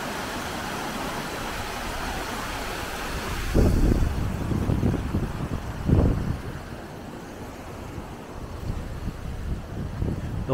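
Mistral wind gusting past a microphone beside a seeping water berm, a broad roaring rush with heavier buffets surging in and out, no speech.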